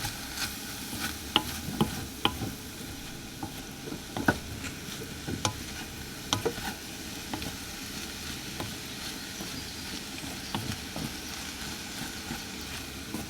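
Chicken and egg fried rice made with cold, refrigerated rice sizzles in a pan outdoors while it is stirred, with a steady frying hiss and frequent scraping clicks throughout, close and fairly quiet, with no talking.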